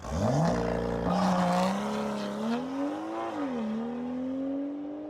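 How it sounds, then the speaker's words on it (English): A BMW M2 with the N55 engine revs hard, rising and falling through several climbs in pitch, loud and close throughout with a raspy, sustained tone. "Revving it out sounds amazing."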